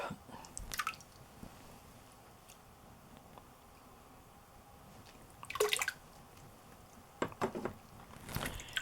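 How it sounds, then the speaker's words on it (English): Paper pulp is added to a vat of warm water for handmade papermaking, giving soft wet drips, squelches and splashes spread over several seconds, quiet and close against a low background hiss. "I'm going to add some pulp."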